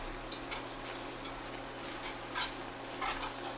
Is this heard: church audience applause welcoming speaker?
no